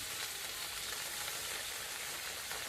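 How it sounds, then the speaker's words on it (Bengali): Potatoes and cauliflower sizzle and hiss steadily in a hot wok, a continuous bright crackle with no voices. "সব কিছু আমি একসাথে ভেজে নেবো"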